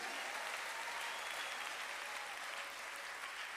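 Congregation clapping during a church blessing service, a continuous even wash of applause from many hands, fairly distant and soft, with no speech over it.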